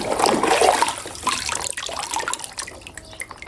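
Water splashes and runs as a toy van is washed, with a louder burst of sloshing at first that settles into softer trickling and drips.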